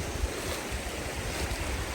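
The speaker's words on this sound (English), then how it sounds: "there's water running down through here" Water runs down through a small creek outdoors, a steady broadband rush with wind noise buffeting the microphone, continuous and close, no talking.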